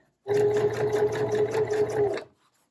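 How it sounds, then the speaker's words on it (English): A sewing machine runs one continuous burst of about two seconds, top stitching a lined zipper pouch, with a steady motor hum and rapid needle clatter, close and clear, then stops. "Now we can top stitch the other side"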